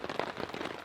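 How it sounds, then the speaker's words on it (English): Rain pattering on a tarp shelter as a thunderstorm passes, heard as a brief, close, irregular spatter of drops with no voices. "It's still raining out there, but it looks like the brunt of the storm has moved on."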